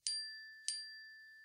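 Two bright message notification dings, evenly spaced and ringing out cleanly against silence.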